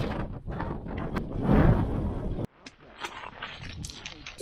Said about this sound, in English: Sorry if you can't hear me because of the wind.